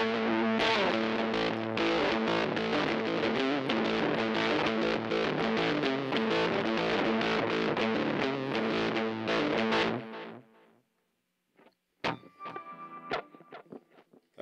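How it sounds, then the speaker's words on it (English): A Little Bear Fuzz pedal cranked all the way up gives a loud, thick, fuzzy distorted electric guitar tone, strummed steadily for about ten seconds before cutting out, followed by sparse, brittle plucked notes and clicks. "And turn it all the way up to where you just get a fugly tone."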